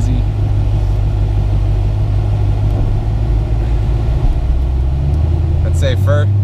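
A car fitted with a ProCharger P-1SC-1 supercharger drives in auto mode, its engine a steady, close low drone with a slight rise in pitch late on and a short chirp at the end.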